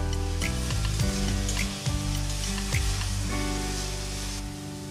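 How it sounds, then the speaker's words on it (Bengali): Spice paste frying with fried potatoes in oil for an omelette curry, a loud continuous sizzle with several scraping stirs of a spatula against the pan, close and without talk. "মশলাটা আমার আলুর সাথে ভালো করে কষে নেওয়া হয়ে গেছে"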